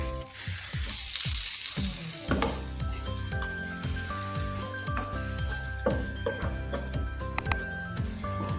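Egg-soaked toast sizzles steadily in a single pan with a little oil over medium heat, a continuous close frying hiss with faint ticks and scrapes as it is turned.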